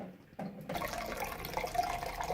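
Water flows from the opened air vent of a leaking radiator, a steady hissing trickle that starts after a brief quiet moment and continues evenly, close by.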